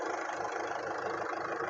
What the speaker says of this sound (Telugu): వెహికల్ రన్నింగ్లో ఉంది, స్టార్ట్లో ఉంది ఇంజన్.